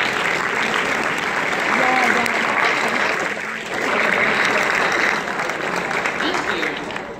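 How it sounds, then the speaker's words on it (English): Audience at a middle-high school graduation ceremony gives a sustained round of applause, dense even clapping from a large crowd filling the hall for several seconds. "Let's give them all a round of applause."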